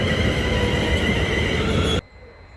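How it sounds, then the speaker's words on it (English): A train pulls into Bricket Wood station on the Abbey Line branch near Watford, a loud, close, steady rumble with a sustained hum that cuts off abruptly after about two seconds, with no talking. "I've gotten here just as a train is arriving again"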